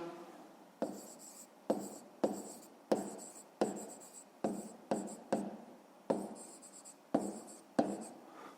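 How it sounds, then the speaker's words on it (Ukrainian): A pen writes out a fifth-grade math exercise on paper, about a dozen short scratchy strokes in uneven bursts with brief pauses between, close and quiet, with no talking. "записуємо."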